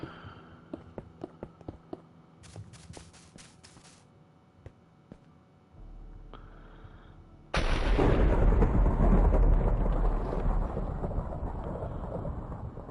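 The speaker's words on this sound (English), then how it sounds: "That's some noisy thunder, isn't it, out there" Thunder in Minecraft rolls in as a heavy, loud rumble that swells and lingers, following a stretch of faint clicks and quieter ambient tones.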